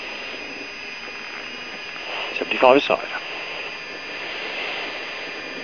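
A steady, high jet-engine drone from the Bloodhound supersonic car holds on throughout, with a short burst of radio voice cutting in midway.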